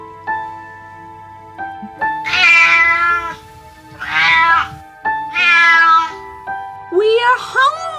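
Several cats meow in long, rising, drawn-out calls, four loud wails in a row over a soft, tonal background, close and clear.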